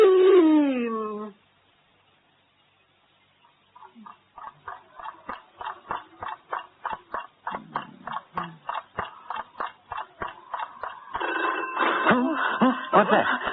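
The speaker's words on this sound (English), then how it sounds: "It's the phone." A telephone rings at three in the morning in a quiet house, a steady series of repeated electronic trill bursts following a brief voice and a pause, with louder rustling and movement building near the end.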